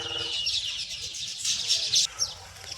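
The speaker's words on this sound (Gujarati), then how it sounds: "અસંખ્ય કબૂતર તેમજ ટીટોળી" Pigeons and lapwings call around palm trees at midday, giving a busy, continuous chorus of chirps and calls. The birds are fairly close and there are no voices.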